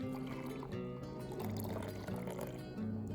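A third of a cup of milk pours into a bowl of oatmeal in a steady stream, a close, continuous trickle and splash that lasts a few seconds with no voices.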